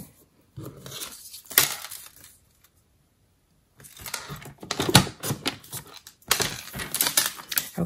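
Designer series paper is trimmed to size for a card-making project, giving bursts of clacking, scraping cutter strokes close by, separated by a silent pause midway.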